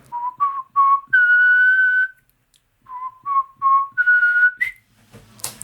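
A person whistles an imitation of a Nicéforo's wren song twice: a few short rising notes followed by a long sustained high note, clear and close with brief pauses.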